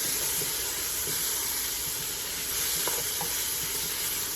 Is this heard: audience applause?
no